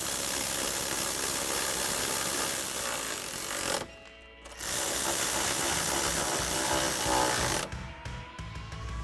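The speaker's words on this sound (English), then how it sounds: "now we can tighten this down using a 13 millimeter socket and an extension" Ratchet with a 13 mm socket and extension tightening bolts on a side step bar bracket of a 2024-2026 Toyota Tacoma, a steady run of dense clicking that stops briefly partway through, then resumes close up.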